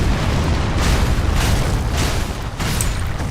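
A bomb explodes in the video game Dark Souls 3, giving a loud, sustained booming rumble with several heavy surges of blast noise and no talk.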